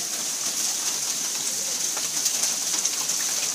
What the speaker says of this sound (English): You're going to get knocked out by the hail. It should just hit the car.